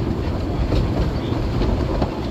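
A train on the Sittingbourne & Kemsley Light Railway, a former paper mill line, rolls onto a viaduct with a loud, close, steady rumble and rhythmic wheel clatter.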